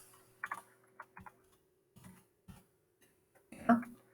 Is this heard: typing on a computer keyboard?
yes